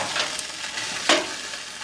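Burgers are flipped on a grate in an air fryer oven, a soft scrape and clatter over a faint steady sizzle, with one sharper knock near the middle.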